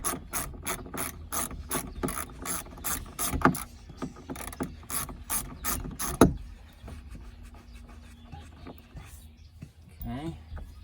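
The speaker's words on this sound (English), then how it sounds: "I'm going to go ahead and use the socket wrench." Rapid, close ratchet clicks in bursts from a socket wrench with a T40 bit loosening a rear hard top tie-down D-ring on a 2017 Jeep Wrangler, fading to slower scattered clicks.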